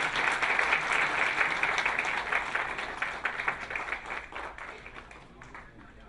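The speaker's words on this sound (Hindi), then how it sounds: "एक बार ताली बजा करके स्वागत करें" A seminar audience claps together to welcome a speaker. The dense, steady applause starts loud and slowly thins and fades toward the end.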